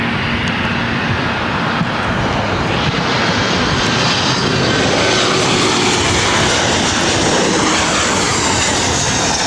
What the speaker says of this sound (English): This is Alaska Airlines 1160 coming in from Portland on a 737-900